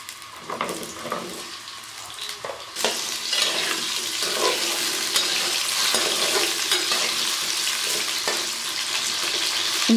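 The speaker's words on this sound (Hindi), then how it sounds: "ऑयल गर्म हो गया है, अब मैं इसमें सबसे पहले आलू शामिल कर दूँगी।" Potatoes frying in hot oil in a kadai for chicken biryani, a loud steady sizzle rising sharply after a few seconds, with occasional scraping and clinking from stirring.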